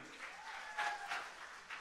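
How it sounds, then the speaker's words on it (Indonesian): During a public debate between regent and deputy regent candidates in Tanggamus Regency in 2024, the audience claps in a brief, lively burst. The applause swells slightly in pulses and is faintly overlaid by tonal feedback. "Kita berikan tepuk tangan yang meriah"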